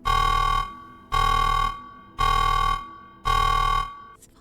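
Four loud, evenly spaced buzzing alarm blasts from the video game Blue Prince, each about half a second long with short gaps between them, heard alone without any talking.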